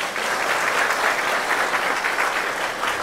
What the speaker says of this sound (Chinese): 谢谢，我们给他们掌声。